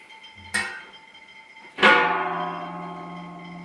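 Two metallic clanks of a pot being sterilized during beer brewing, a short knock followed by a louder ringing clang that fades slowly.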